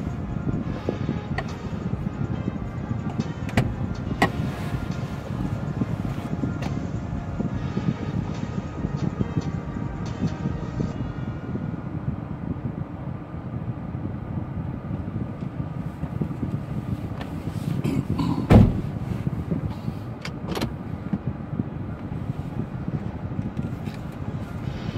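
A car driving around Bagram, Afghanistan, with a steady engine and road rumble from inside the cabin, some wind noise, and a sharp knock where the camera gets bumped.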